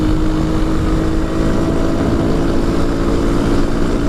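A big motorcycle engine hums steadily while riding through winding curves, a constant loud, close drone mixed with rushing wind, no breaks throughout.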